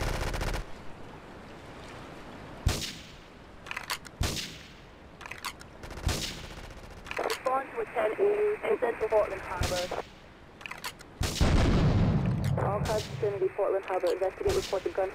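Several sharp blasts and heavy bursts of gunfire and explosions in GTA 3, loud and close, with a rumbling boom near the end and crackling debris between hits.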